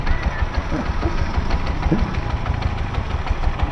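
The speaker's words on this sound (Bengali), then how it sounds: "বাইক নিয়ে বেরোচ্ছে বাইক ভালো স্টার্ট দিতে পারতেছে না" An Aprilia motorcycle engine runs roughly while struggling to start, a close, uneven low rumble with knocking pulses throughout and no speech.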